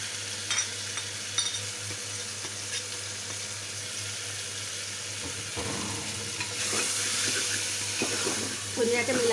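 Spices such as turmeric, chili, cumin, coriander powder and garam masala being stirred into chana dal with bottle gourd curry in a pan, a steady scraping and sizzling stir, with a brief louder burst of frying toward the end.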